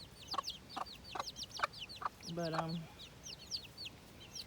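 Backyard chickens from a flock with too many roosters cluck in quick, repeated short notes, with one drawn-out call in the middle, fairly close over low background hiss; a voice briefly speaks one word.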